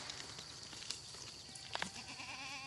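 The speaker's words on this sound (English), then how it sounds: "Come on, all you goats." Goats on a farm bleat a few times, short quiet cries, some overlapping, against faint outdoor background.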